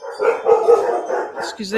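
Several dogs bark in a house, a continuous overlapping chorus of yapping that fills the whole stretch, with a person speaking briefly over it.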